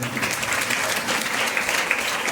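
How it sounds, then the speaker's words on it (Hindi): A church congregation claps loudly and steadily during a Sunday sermon, a dense wash of applause with no gaps, close and full across the whole moment. "जोरदार ताली बजाइए प्रभु की।"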